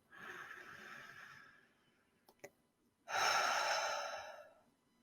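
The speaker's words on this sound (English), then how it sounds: "Just take a moment and breathe with me." Slow deep breathing, a long airy exhale, a short pause with a small catch, then a fuller, louder breath close to the microphone, without any words.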